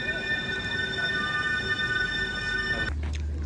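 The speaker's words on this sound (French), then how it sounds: "Là, du coup, le métro, il arrive." Metro train arriving at a station, with steady high-pitched electrical whine and rolling rumble that cuts to a deep low hum as the train comes to a stop, moderately distant with no talk.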